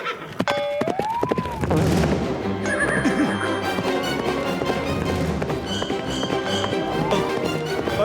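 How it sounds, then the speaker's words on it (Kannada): A cartoon horse lets out a loud, rising-and-falling whinny early on, then a busy, dense soundtrack carries on with hoof-like taps and bright effects throughout. "ಕುದುರೆ ಅರೆ ಅರೆ ಸ್ನೇಹಿತ, ನನ್ನ ಮಾತು ಕೇಳು."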